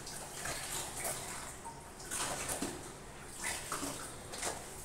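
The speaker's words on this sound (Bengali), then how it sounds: "আমি এই বালতিটাই করে তাড়াতাড়ি পাট করে ধুয়ে নিই।" Clothes being washed by hand in a bucket of water, with continuous sloshing, splashing and swishing in uneven surges at close range.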